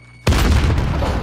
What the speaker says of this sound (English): Watch out, I'm tossing a nade.